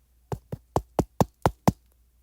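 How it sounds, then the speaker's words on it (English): Seven sharp knocks on a door in a steady, evenly spaced rhythm, close and fairly loud, with silence before and after. "Am I waiting for that knock on the door?"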